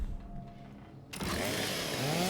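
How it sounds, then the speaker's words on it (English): A chainsaw revving in Gears 5 on Xbox Series S: after a quiet, low rumbling lead-in, a loud saw whine cuts in abruptly and holds, rising in pitch toward the end. "Chainsaw"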